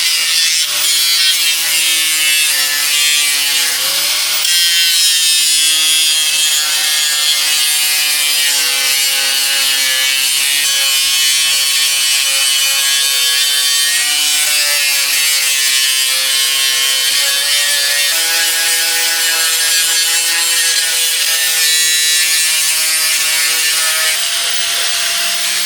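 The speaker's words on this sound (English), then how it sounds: "So anyways, grinder time." Loud, continuous high whine of an angle grinder grinding down welded metal on a project car, close up and sustained, its pitch dipping and shifting as the disc bites, with no voices.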